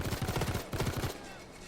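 Gunfire during the Harbor heist in the video game Payday 2, heard as two quick rhythmic bursts of thudding shots, fairly loud, followed by a quieter tail.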